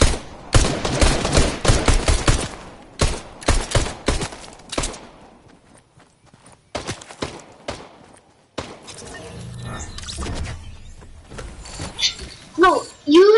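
Pistol fire in Fortnite comes as quick bursts of loud shots in the first few seconds, then sparser single shots and game noises, with a player talking over the action.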